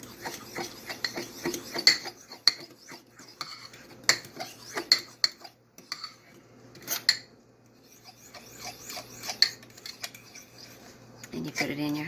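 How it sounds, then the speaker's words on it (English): Coleslaw dressing with sugar being stirred in a bowl: scattered light clinks and scrapes of a utensil against the bowl, quiet and irregular, with brief pauses between strokes. "Now you stir all this up"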